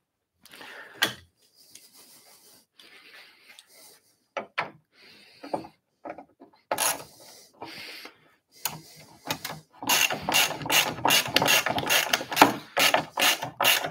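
A ratchet tightens bolts through the wooden back of an Adirondack chair: scattered short clicking bursts at first, then a fast, sustained run of loud, close ratcheting clicks toward the end.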